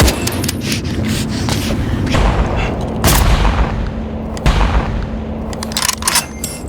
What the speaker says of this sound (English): Matthews blindly aims at the pile of trash where Juba is hiding and fires all his bullets. Isaac shoots as well